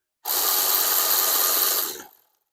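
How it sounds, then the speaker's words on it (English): A Milwaukee power wrench runs a screw into a plastic bumper marker light on a 2025 Yukon, Tahoe, Escalade or Suburban, giving one close, steady whirring burst of about two seconds that stops abruptly, with no talking. "If you got the Milwaukee wrench, you're in service, you're going to put it on tighten now."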